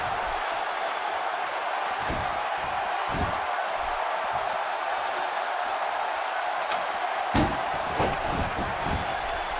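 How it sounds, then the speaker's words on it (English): A crowd at a televised Extreme Rules wrestling match roars steadily in a large arena, a continuous wash of cheering with a few sharp thuds and claps rising over it. "by the sound of this crowd, I think they're getting what they wanted"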